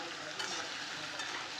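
Katla fish and potatoes frying in hot oil, a continuous close crackling sizzle at moderate level, with no voices.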